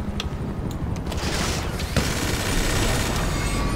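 Explosions and gunfire in GTA 5 Online around equipment, a dense run of sharp cracks and bursts with one heavier boom near the middle, loud and continuous under a busy rumbling background.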